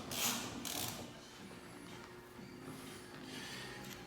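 A ratchet snugging down a 10 mm bolt on a Turbo Foxbody Notch door panel gives quiet, close mechanical clicking in short bursts against a low background hum, with no talking.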